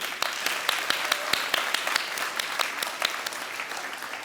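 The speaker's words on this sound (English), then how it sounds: "Please give yourselves a big round of applause." A commencement ceremony audience claps, dense applause with a few sharp, distinct claps standing out near the microphone, holding steady throughout.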